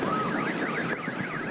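A car alarm, set off by a meteor explosion, wails with a steady, rising-and-falling electronic tone at moderate distance, alone, with no voices.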